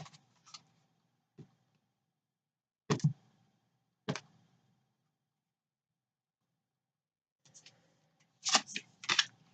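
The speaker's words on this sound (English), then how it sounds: "I am shuffling the Spirit Animal Oracle deck by Colette Baron-Reid for the Oracle card for this month" Spirit Animal Oracle card deck by Colette Baron-Reid shuffled nearby: sparse soft riffles and crisp card snaps, scattered taps, then a quick cluster of brisk shuffles at the end, with quiet gaps between.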